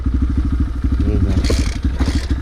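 A Kayo TT 125 dirt bike engine, not yet warmed up, chugs loudly and close with a steady low pulsing beat, rising once into a brief rougher rev.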